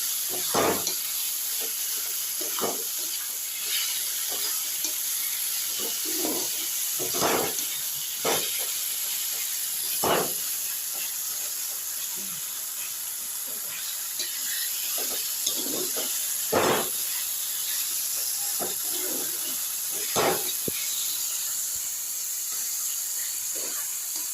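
Taro leaves frying in a pan give a steady, close hiss broken by scattered soft ticks and stirring taps, continuing without any voices.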